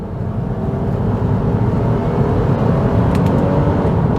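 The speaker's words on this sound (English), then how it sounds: "driving the V6 Accord" A Honda Accord with a 3.5-litre J35 V6 drives along, and a steady, loud engine and road drone fills the cabin throughout without any clear change.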